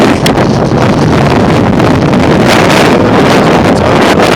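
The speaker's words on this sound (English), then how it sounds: "Because the wind has picked up a bit now" Strong wind gusts across a hillside wild camp at Graig Fawr, roaring and buffeting the microphone steadily and loudly throughout.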